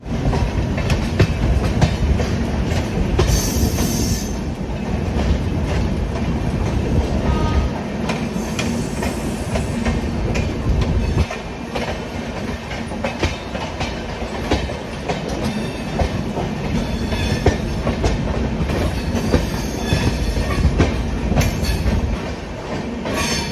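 The Kanpur Shatabdi Express runs on the rails with a continuous rumble and rhythmic clickety-clack of wheels over rail joints. The sound is heard from inside the carriage, with occasional brighter squeals and rattles.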